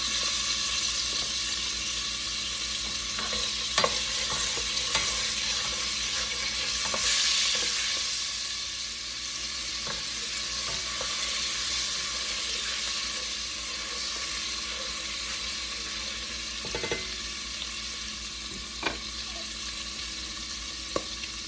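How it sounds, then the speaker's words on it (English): Half a teaspoon of garlic frying in a hot pot, a steady close sizzle and hiss throughout with occasional stirring clicks and taps. "I'm gonna add about half a teaspoon of garlic. And let that cook up."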